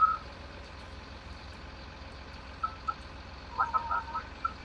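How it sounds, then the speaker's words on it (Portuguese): Faint, intermittent reversing beeps from a truck in a driving video game, a few scattered high tones over a low engine hum. "Tenho que meter de marcha atrás"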